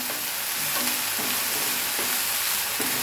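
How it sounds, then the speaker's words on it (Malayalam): Salted sliced onions fry in a pan with a loud, constant hiss and crackle, and a spoon stirs through them every second or so. "ഉപ്പിട്ടിട്ട് ഒന്ന് ഇളക്കി കൊടുക്കാം"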